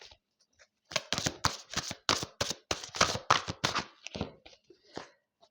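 Tarot-style playing cards from a Spanish-suited deck are handled and shuffled, giving a quick rapid series of crisp riffling flicks close by, bursting in after a short pause and tapering off near the end.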